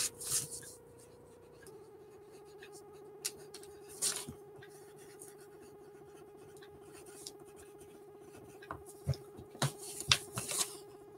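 A pencil scratches across paper in short quiet strokes and taps over a steady low background hum, with faint rustling and no talk.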